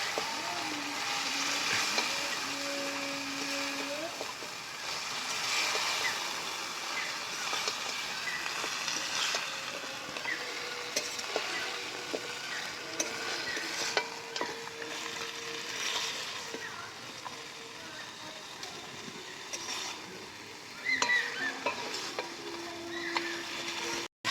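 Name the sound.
stirring and frying katla fish heads in spice masala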